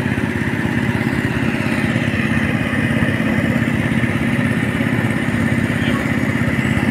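A boat engine runs continuously nearby, a loud, steady chugging rumble with a rapid mechanical pulse and no pauses.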